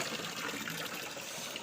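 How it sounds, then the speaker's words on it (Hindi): Water pours steadily from a pipe into garden flower pots, a continuous close splashing gush with no talking. "और अब मैं थोड़ा अपने गमलों में भी दे रही हूँ"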